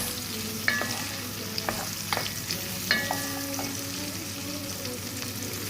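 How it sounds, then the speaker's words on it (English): Chili powder, salt and oil are stirred in a pan, giving a soft steady sizzle with scattered clinks and scrapes of the spoon against the pan, fairly quiet and alone. "Stir it about 10 minutes."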